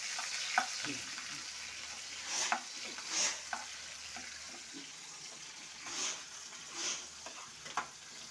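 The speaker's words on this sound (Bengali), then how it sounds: "এবার আমি পেঁয়াজটা ভাজবো।" Onions fry in oil with spices in a pan for chicken korma, a faint, steady sizzle with occasional soft stirring scrapes and light knocks.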